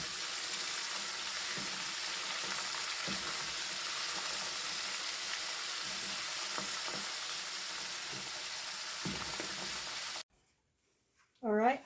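A bloomin' onion deep frying in grease in a pot too shallow for it, giving a steady loud crackling sizzle for about ten seconds before cutting off abruptly; a brief voice follows at the end.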